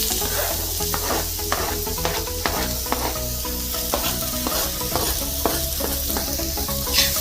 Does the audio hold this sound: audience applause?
no